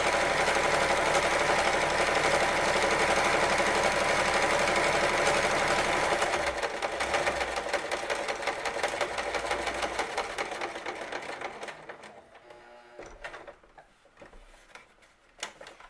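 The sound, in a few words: sewing machine stitching a headband seam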